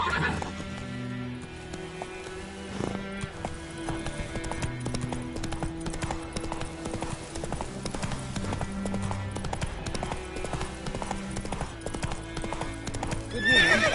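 Horse hooves clip-clop at a steady gallop in The Witcher 3, loud and rhythmic throughout, with a whinny and game music beneath.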